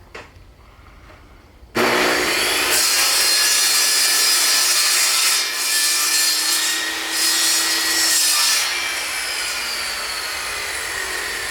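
A table saw rips a quarter-inch strip off a board of van flooring wood: after a brief quiet start, a loud, steady whining cut runs for about ten seconds, close up, with no talking.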